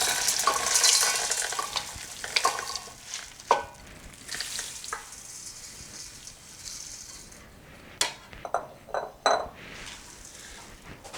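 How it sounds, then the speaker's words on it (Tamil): Puffed rice, roasted gram and peanuts are tossed together in a wide vessel for spicy kara pori, giving soft rustling grains and scattered metallic scrapes and clinks, close and without talk. "அதை இப்போ நான் இந்த அகலமான பாத்திரத்தில் போட்டு மிக்ஸ் பண்ண போகிறேன்"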